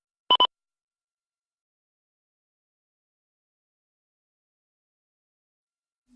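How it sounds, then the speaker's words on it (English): An Angelcare AC401 digital baby movement and sound monitor gives a quick double beep on reconnecting, two short bright tones close together, then silence. "The tick light will flash and a beep will sound when connection is complete."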